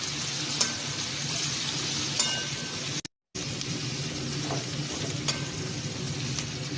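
Chopped onions and green chilies fry in a pan for a cauliflower tomato fry, a steady close sizzle with occasional stirring clinks and a brief silent cut midway.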